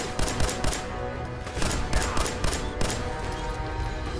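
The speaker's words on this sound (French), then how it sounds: "je tire sur des cadavres" Gunfire in Fallout 4: a string of sharp, loud shots at an uneven, rapid rhythm, each with a short crackling tail, fired up close.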